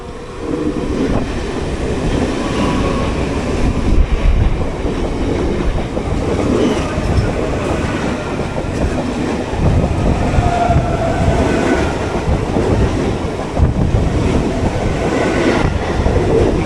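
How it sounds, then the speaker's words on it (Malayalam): A CSMT-bound train rolls past close by on an Indian railway line, a loud continuous rumble with rhythmic clickety-clack of wheels on the rails, no voices. "ഇപ്പോഴത്തെ കൂടെ CSMT-ലോട്ടുള്ളൊരു ഫസ്റ്റ് ട്രെയിൻ അടിച്ച് പുറത്ത് വരുന്നുണ്ട്."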